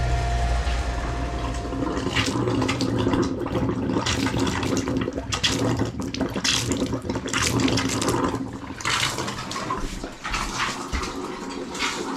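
Water runs steadily from fixtures in a cabin being opened for spring as the pressure tank fills, a continuous loud rushing and splashing that fills the whole stretch with no talk.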